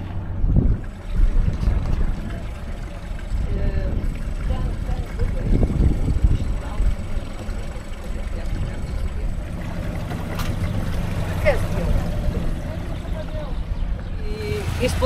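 A newly launched boat's engine being started for the first time on the water, a low rumbling drone under wind buffeting and speech, with some knocks and mechanical clatter.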